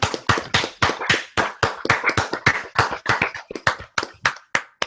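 Students clapping on a video call for a guest at a career panel, a few hands producing distinct close, sharp claps in an uneven, overlapping rhythm, each crisp and separated by brief silences.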